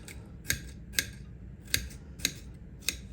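A knife dices watermelon for a feta salad, making six sharp, crisp chops spaced about half a second apart on a quiet kitchen cutting board.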